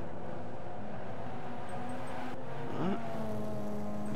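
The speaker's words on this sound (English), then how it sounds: "Amp Irish passes Panos back." Race cars in Gran Turismo 5 roar through a road-racing league event at Autumn Ring, one engine droning steadily before a quick rising whine as another car revs and shifts nearby, moderately loud throughout.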